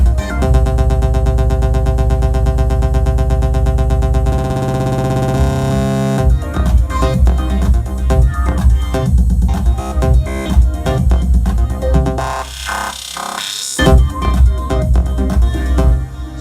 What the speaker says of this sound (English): So that was the roll effect on the master.